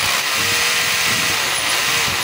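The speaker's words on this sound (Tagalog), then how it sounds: "naka-chipping yan. Dapat hindi siya umiikot, pero umiikot pa rin." A DeWalt D25033 rotary hammer runs in chipping mode, its motor roaring continuously and loudly up close without a break, with a faulty mechanism that keeps the bit spinning when it should not.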